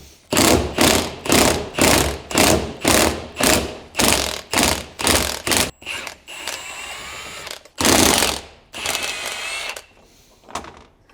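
A ratchet wrench backing out bolts on a BMW E39 530i Touring brake caliper, with a steady run of loud, evenly spaced clicking bursts close up, then a few scraping metal handling sounds.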